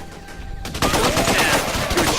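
Rapid automatic gunfire in the shooter game Raven Squad, a dense, loud burst of shots with heavy recoil that erupts after a quieter moment and keeps rattling steadily to the end.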